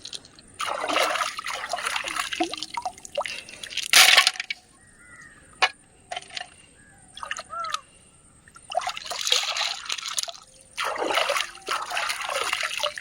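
River clams being rinsed in water to wash off river sand: bursts of splashing, trickling and clattering shell noise in several loud spells, with quieter drips and a sharp crack between them, close by and with no talk.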